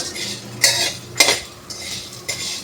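A spoon scrapes and clinks against a pan while cardamom and garam masala spices are stirred and dry-roasted, a few distinct metallic strokes over a low background hum.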